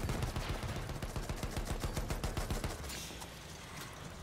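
Battlefield 1 game gunfire: a rapid, steady automatic burst of closely spaced shots for about three seconds, then a brief pause and noisy rumble, with no talking.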